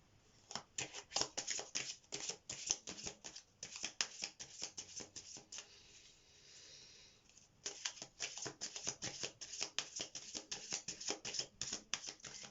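Tarot cards being shuffled by hand in rapid riffling bursts, a crisp papery flutter repeating in quick runs with a short quieter lull in the middle, close and fairly soft, with no talking.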